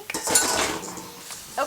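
Dishes and cutlery tossed into a kitchen sink, a single clattering clink of metal and crockery up close, followed by a short rattle as they settle.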